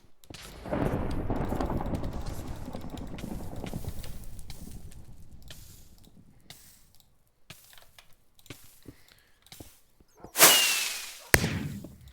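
Shots fired at a skeleton in modded Minecraft, heard as sharp game-sound bursts, a loud one near the end, after a stretch of rumbling noise and scattered keyboard and mouse clicks.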